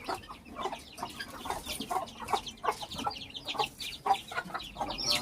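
Guinea fowl hens cluck repeatedly in short, uneven bursts, close by and fairly loud, with no talking.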